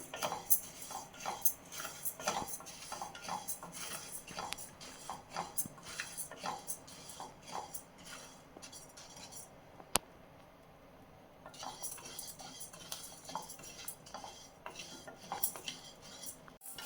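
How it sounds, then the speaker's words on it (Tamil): Black kavuni rice dry-roasting in a pan, dense rapid crackles and ticks like popping grains with scraping stirs, close and continuous, pausing briefly near the end before resuming. "படப்படன்னு வறுபடும். பொரி அரிசி மாதிரி வறுபடும்."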